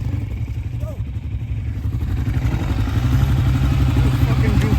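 A dirt bike engine being kick-started in snow, with a steady low motor sound that grows slightly louder and runs throughout under background talk.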